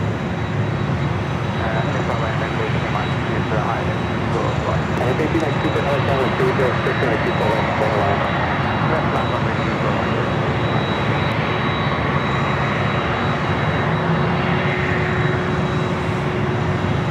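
A Delta 767-400ER jet airliner rumbles at LAX while it waits second in line for takeoff, a steady, loud engine roar with a faint high whine and a voice talking over it.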